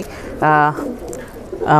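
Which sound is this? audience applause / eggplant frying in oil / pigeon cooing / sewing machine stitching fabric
pigeon cooing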